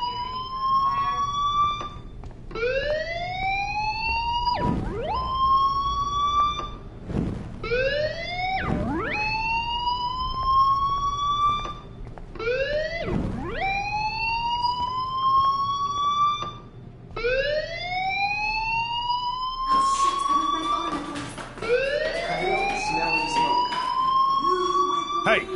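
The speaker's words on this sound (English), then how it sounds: "do you hear that fire alarm?" School fire alarm in the game Life is Strange, loud repeated rising siren-like whoops in a steady cycle, with a harsher, noisier stretch toward the end.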